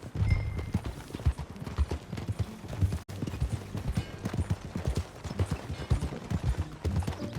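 Horse hooves clip-clopping at a steady riding pace in Red Dead Redemption 2, a close, rhythmic run of hoofbeats with a brief break midway, set against low rumbling ambience.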